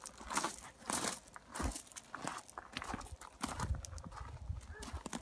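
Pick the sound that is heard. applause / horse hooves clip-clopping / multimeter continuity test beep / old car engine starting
horse hooves clip-clopping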